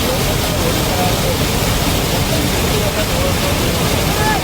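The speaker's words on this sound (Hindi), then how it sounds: "तेज धार का हाहाकारी शोर" Fast floodwater current rushes in a loud, unbroken roar that fills the whole stretch evenly, with a voice faintly underneath.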